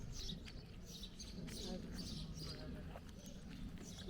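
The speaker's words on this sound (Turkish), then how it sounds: "cıvıl cıvıl kuş, kuş sesleri geliyor bir de" Birds chirp and twitter faintly in the background of an outdoor holiday spot. The repeated short calls sit under a low ambient rumble.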